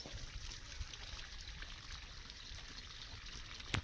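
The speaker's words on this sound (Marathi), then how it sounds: "पाणी मारते" Water sprayed onto crates at a fig orchard, a soft steady hiss and trickle of running water throughout, fairly faint and distant with a small knock near the end.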